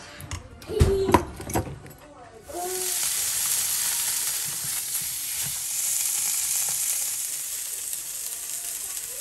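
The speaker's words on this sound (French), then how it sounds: "Je vais lui faire les frites, il va manger." French fries dropped into hot oil in a home kitchen pan, a few clatters and a voice at first, then a sudden loud, steady hissing sizzle that continues close up to the end.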